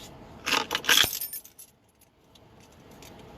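A bunch of metal keys jangling close by, a bright burst of rattling and clinking that peaks early and then fades into quiet room tone, with no voices.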